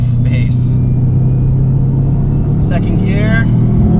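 A Subaru WRX engine loudly revs and rumbles after a downshift into second gear, a steady, close cabin drone with brief high bursts of engine and road noise.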